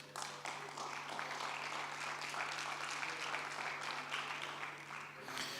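An audience at a diplomatic startup pitch challenge gives steady, moderate applause for a presenting founder, an even wash of clapping that continues without pause over a low background hum.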